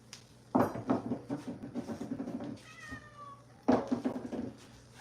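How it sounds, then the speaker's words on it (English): A house cat meows near the microphone, with two loud bursts of vocalising, each trailing into softer, rhythmic mewling, over a quiet indoor background. "I have 4 cats."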